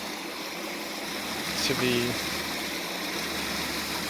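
Runoff from a roadside construction site rushes down a stream in a steady, broad hiss that fills the whole stretch. A faint voice speaks briefly over it.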